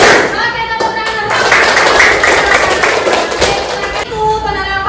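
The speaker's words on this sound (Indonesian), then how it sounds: "Oke, tepuk tangan." Children in a classroom clap their hands together in a dense, steady burst of applause that swells and fades, with bright voices chattering over it near the start and end.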